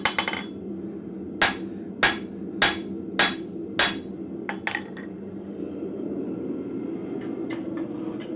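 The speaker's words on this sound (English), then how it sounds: "I'm going to actually use the flat of the hammer just to smooth that out a little bit" A blacksmith's hammer strikes hot metal on an anvil with its flat face to smooth the work: five evenly spaced loud ringing blows, then a few lighter taps, over a steady low forge roar.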